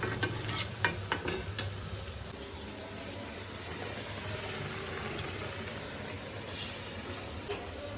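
Buckwheat flour pakoras frying in hot oil, a steady close sizzle with a few sharp clicks and stirring knocks near the start, continuous and moderately quiet, no talking.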